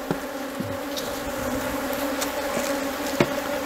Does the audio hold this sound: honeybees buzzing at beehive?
yes